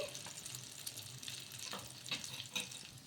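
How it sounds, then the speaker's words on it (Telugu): Peanut batter cooking in hot oil on a low flame, giving a soft, steady sizzle and faint crackle with occasional small pops, quiet and close. "నూనె బాగా వేడెక్కిన తర్వాత ఇలా మరి సిమ్లో పెట్టేసుకొని కాల్చుకోవాలి"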